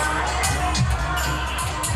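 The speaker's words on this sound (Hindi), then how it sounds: "भीड़ बहुत ज्यादा है, भीड़ में धक्का मुक्की न करें" A large crowd of devotees at the Chhath Puja festival in Dehri on Sone, Bihar, makes a steady outdoor hubbub of overlapping voices, with a few brief louder shouts rising above the murmur.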